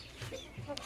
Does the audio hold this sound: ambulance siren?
no